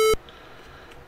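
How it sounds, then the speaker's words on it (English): A single short electronic beep from the 1972 Pong arcade game, loud and abrupt, then quiet room tone. "I can hear the beeping"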